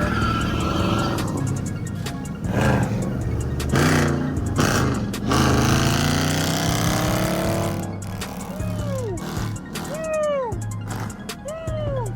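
A Dodge Challenger R/T does a burnout in traffic: a loud engine roar with skidding tire noise, then several short rising-and-falling tire squeals near the end.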